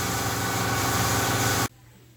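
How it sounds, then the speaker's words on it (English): An auction-bought air compressor runs loudly and steadily as it builds pressure, then cuts off abruptly, leaving near-silence. "the compressor built up its head and finished"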